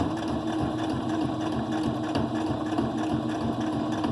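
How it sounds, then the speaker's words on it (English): Sewing machine stitching through heavy material with the presser foot down, a steady close mechanical hum and rapid needle chatter running continuously with no talking. "I'm gonna get it set up here on my machine the best I can, and put down the presser foot, and off we go."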